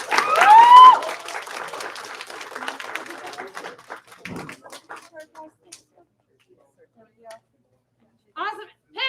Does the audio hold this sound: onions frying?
no